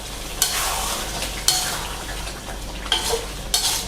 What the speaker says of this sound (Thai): ผัดให้เข้ากันครับ